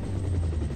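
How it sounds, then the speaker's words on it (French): An approaching helicopter's low, steady rotor drone in a radio drama hums continuously, fairly loud and close, with a rough pulsing texture and no voices. "Le bruit d'un hélicoptère arrive aux oreilles des 2 filles."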